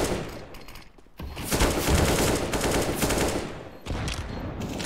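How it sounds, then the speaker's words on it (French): Counter-Strike gunfire in a tournament match: a loud, dense burst of rapid automatic shots that nearly fills the whole stretch, pausing briefly once before firing resumes. "on tire dans la fumée"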